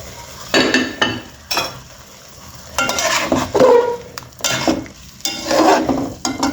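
Beef kofta in tomato sauce gets stirred in a pot with a spoon, making several bursts of scraping, clinking and soft wet sloshing, separated by short quiet pauses, close and fairly loud.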